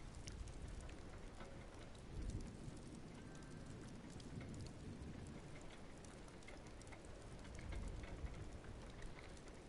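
Steady rain in the video game Dreams, a dense continuous hiss of falling drops with occasional swells in intensity, no voices.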